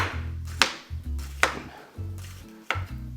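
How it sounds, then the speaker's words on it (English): A knife cuts a fennel bulb into thin slices on a board, three sharp clicks of the blade landing against a low steady hum in the background. "I'm going to cut this into thin slices, like this."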